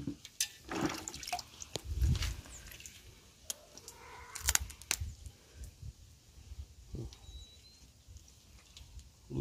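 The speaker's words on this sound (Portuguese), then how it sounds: "Botando ele aí pra passar mais uma aguinha." A crab is rinsed under water, with irregular drips, splashes and wet handling noises close by in a kitchen setting, scattered over several seconds.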